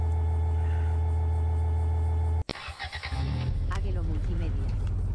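A damaged car's engine in the Japanese horror game The Radio Station drones steadily and loudly, cuts out abruptly, then sputters back with rougher, irregular noise.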